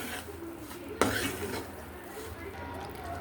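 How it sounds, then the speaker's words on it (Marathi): A spoon stirs ghee into mung dal halwa in a metal pan, giving a sharp scrape or clink near the one-second mark, then steady low scraping and stirring noise, close and fairly quiet throughout with no talking. "पुन्हा आपल्याला दोन चमचे तूप घालून असं हे आपल्याला तूप घ्यायचं आहे दोन दोन चमचे आणि तेवढं मिक्स करायचं"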